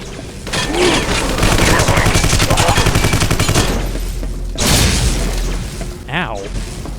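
Rapid bursts of gunfire in the video game Vivisector: Beast Within, loud continuous volleys with shattering and mechanical clatter, followed by a heavy boom and a short voice near the end.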